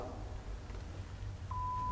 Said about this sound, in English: There we go, it beeps.